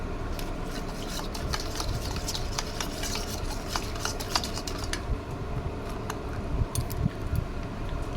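A spoon stirs ingredients for a summer sherbet drink, making rapid, close clinking and rattling against the container. The stirring runs steadily throughout.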